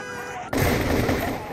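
A sudden loud blast cuts in after a steady hum, followed by a sustained roaring rumble of an explosion in the video game Total Overdose that fills the rest of the moment.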